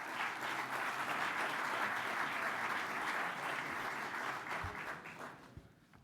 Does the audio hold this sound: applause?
yes